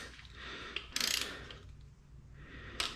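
Bolts on a BMW N55 engine being tightened with a ratchet produce quiet mechanical clicking, with a sharp burst of rapid pawl clicks near the middle and another brief one at the end.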